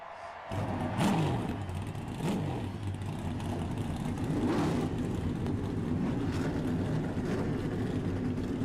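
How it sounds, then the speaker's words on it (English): Several race car engines fire up together at an eNASCAR iRacing Series round at New Hampshire Motor Speedway, a loud, steady massed engine roar that rises sharply at the start and holds with revving swells. "Drivers, start your engines!"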